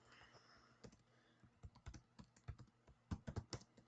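Quick bursts of clicky keystrokes on a computer keyboard, irregular taps bunching into short runs, close and quiet in an otherwise silent room.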